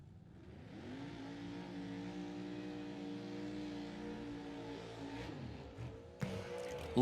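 Drag race car at a Shakedown event, US 131 Motorsports Park, roaring steadily for several seconds with a strong harmonic engine note, then fading as it pulls away, with a sharp burst near the end.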